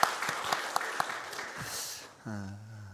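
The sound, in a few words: congregation applause in church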